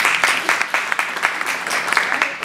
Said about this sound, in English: Go ahead, give her a round of applause.